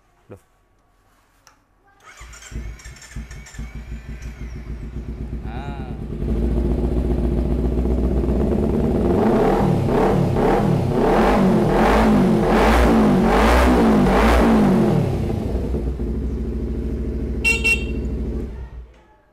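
A 250cc two-stroke sport motorcycle starts and idles with a raspy buzz, then is revved hard in a series of rising and falling bursts before dropping back, loud and close.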